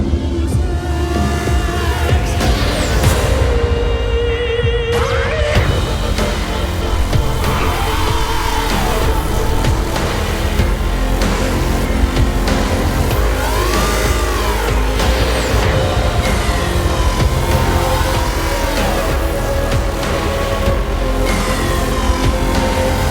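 BMW M5 sliding sideways on a rain-wet surface, its engine droning loud and steady throughout with rising and falling tonal sweeps as revs swing, no voices over it.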